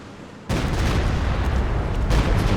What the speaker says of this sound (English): Base barrage again takes down a rifle squad.